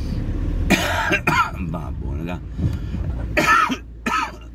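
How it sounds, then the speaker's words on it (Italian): A person coughs and clears their throat in several harsh bursts, up close, with a few words of Italian spoken between the coughs; a smoker's cough. "Maledetta tosse."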